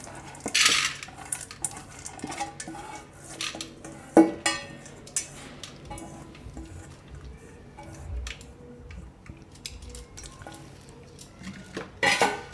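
Washed dal is tipped into a steel pressure cooker in a home kitchen, with repeated metallic clinks and clatters of utensils and vessels over a low background, including louder knocks near the start and end.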